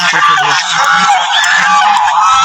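Geese at a goose farm honk loudly and continuously, with overlapping calls from many birds and no break across the whole stretch.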